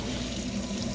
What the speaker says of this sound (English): That's why I got the water running, because I like to wash my hands often.